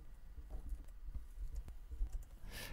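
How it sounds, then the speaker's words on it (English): Numbers typed on a computer keyboard make soft, quick irregular key clicks, faint and close against a quiet room hum. "now if I type in some numbers"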